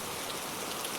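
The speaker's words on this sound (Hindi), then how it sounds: "बारिश के साथ ओले भी पड़ रहे हैं।" Heavy rain with hail pouring down in a Hindi cartoon story at night, a dense, loud, continuous wash of drumming drops.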